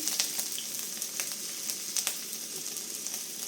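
Onions fry in hot oil for a soya curry, a constant crackling sizzle with frequent sharp pops and spits. Close and fairly quiet, with no talking.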